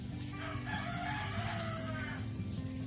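A chicken crows faintly in a backyard house garden full of flowers and herbs, a soft, distant call with no talk over it.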